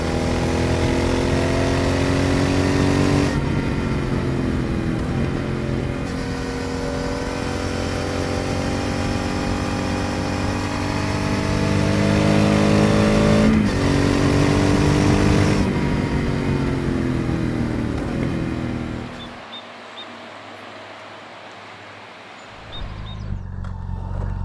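A Triumph Speed Twin 1200 motorcycle cruises along a road with a loud, steady engine drone and rising and falling revs over wind, then drops to a quieter idle near the end.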